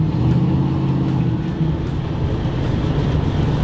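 A 1968 Ford Mustang California Special driving by, a steady deep engine drone with low rumbling tones, fairly close and continuous without talk.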